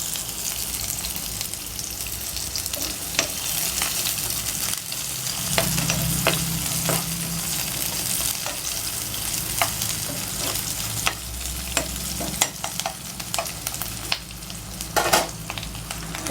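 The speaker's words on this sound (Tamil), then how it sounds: "எண்ணெய் காஞ்சிருச்சு. கட் பண்ணி வச்ச ஆனியனை சேர்த்துக்கலாம்." Diced onions fry in hot oil with a loud, continuous crackling sizzle, broken by occasional sharp pops and light stirring clicks, and a low rumble underneath for part of the time.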